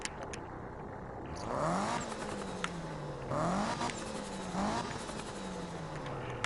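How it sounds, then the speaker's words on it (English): A turbocharged car in Need for Speed (2015) revs up through repeated gear changes, its engine pitch climbing then dropping three times, with a faint fluttering release between shifts and no talk. "Do you guys hear that little flutter?"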